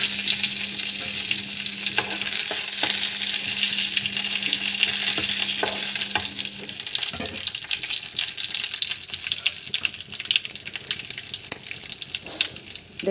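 Urad dal, cumin and curry leaves sizzle in a hot oil tempering for peanut chutney, a loud, steady crackle that carries on throughout with occasional stirring ticks and a brief hum early on.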